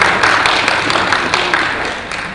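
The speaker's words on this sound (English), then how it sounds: "can we give the SSA to the Governor of Lagos State on Diaspora and Foreign Affairs Relations, Jamin Somodi, a round of applause" An audience at a National Diaspora Day 2019 session in Lagos applauds, giving a steady, fairly loud wash of clapping from many hands that gradually fades over a couple of seconds.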